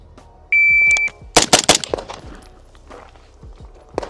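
A shot timer gives one sharp electronic beep, and three quick, loud gunshots follow within about a second, with faint clanks trailing afterward, at an outdoor range.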